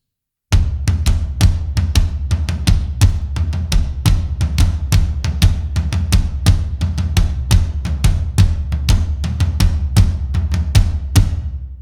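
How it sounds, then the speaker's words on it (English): A drummer plays both floor toms in unison with both hands over a kick pattern, with accented hand strokes. The dense, steady stream of loud, booming drum hits runs continuously and close throughout. "we are doing it in unison with both hands on our floor toms with the same kick pattern"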